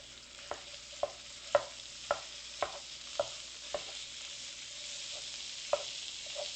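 Ground sirloin beef browns in a pan with a faint, steady sizzle, broken every half second or so by sharp clicks of a utensil stirring and scraping against the pan.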